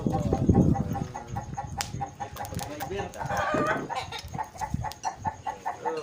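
Several chickens cluck in a steady, overlapping chatter nearby, with a rooster-like call rising briefly among them.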